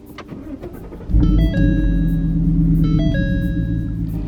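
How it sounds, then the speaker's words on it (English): A car engine cranks and catches, then settles into a steady idle while a few electronic chimes sound over the running motor. "Start up the car."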